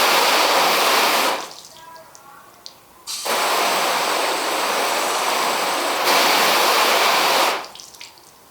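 Water sprays from a hose nozzle on its shower setting in two loud, hissing bursts, each lasting a few seconds with a short quiet gap between them and no talking.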